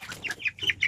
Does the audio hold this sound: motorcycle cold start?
no